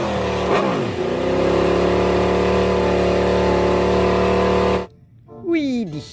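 A toy racing motorcycle gives out a loud, steady electronic engine drone with a short rising rev at the start, then stops abruptly before a brief sweeping tone.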